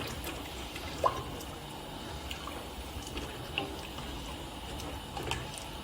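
Hot water pours into a pot of chorba, a soft continuous stream of liquid with a faint clink at the start and small splashes scattered throughout, fairly quiet and steady.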